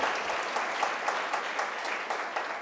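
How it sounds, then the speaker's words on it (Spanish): A church congregation claps together in a quick, regular rhythm for the Lord, the fairly soft, even beat of many hands carrying on without any voices. "si quiere dar un aplauso, denle un aplauso al Señor"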